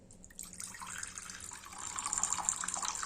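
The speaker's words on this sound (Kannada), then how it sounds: "ಮತ್ತೊಂದು ಬುಟ್ಟಿ ತೊಗೊಂಡು ಇದ್ರದಾಗಂದ ನೀರು ತೆಗೆದು ಬಿಡ್ತೀನಿ" Water draining out of salted tender mangoes through a basket, first a quiet trickle and then a stronger, steadier stream of dripping and running water nearby.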